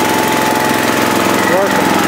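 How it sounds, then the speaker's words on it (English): A gas-powered air compressor runs steadily for sandblasting Puch motorcycle parts, a continuous loud engine drone with a low rhythmic pulse filling the whole stretch, and voices talk faintly over it. "there goes the compressor"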